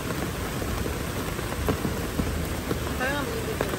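Steady rain hisses continuously during an evening camping trip, with scattered drops tapping nearby and faint voices briefly in the background.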